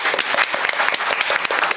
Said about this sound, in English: I think we should give that a clap